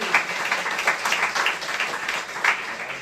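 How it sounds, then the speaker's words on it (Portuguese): A church congregation at Igreja de Nova Vida do Catete applauds during a sermon, with loud, busy clapping that pulses in uneven surges and has some sharper individual claps standing out. "Aplauda o Senhor."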